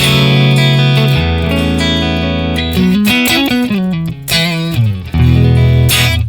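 A clean electric guitar rings out through an amp, sustained chords giving way to a quicker run of single notes, loud and up close.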